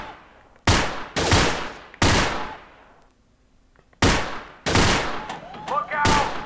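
Bursts of submachine gun fire from an Allied SMG 26-40 in the VR shooter Gun Club VR, with several loud, sharp full-auto volleys separated by short pauses and a quiet gap in the middle, with no talking.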